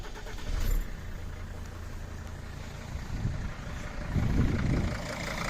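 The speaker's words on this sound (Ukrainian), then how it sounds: "Ось зараз при вас запускає двигуна" A used car with roughly 340,000 on the odometer starts up nearby; the engine catches with a short burst, settles into a low idle, then surges again with a louder revving swell.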